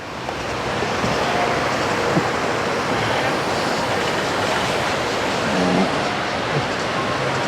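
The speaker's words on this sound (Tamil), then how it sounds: "ஸோ ஃபைனலாக பாருங்க இதுதான் ராவணேல வாட்டர் ஃபால்ஸ்" Ravana Falls, a waterfall in Sri Lanka's hill country, roaring as a dense, steady rush of falling water that stays loud and unbroken throughout, with no voices over it.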